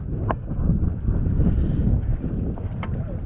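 Wind buffets the microphone in low rumbling gusts aboard a cruising sailboat facing into the wind while hoisting the mainsail, with a couple of faint knocks of rigging.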